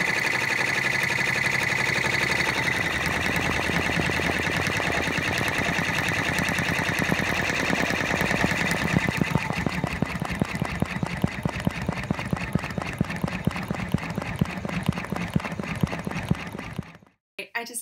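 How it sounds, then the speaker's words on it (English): An embroidery machine stitching out a design runs continuously with a dense, rapid mechanical chatter and steady hum, close and loud throughout before cutting out near the end. "I just love the sound of embroidery and it's stitching out so smoothly."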